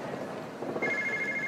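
A payphone rings in the video game Yakuza 0, a steady electronic ring that starts partway through and repeats over busy background game ambience.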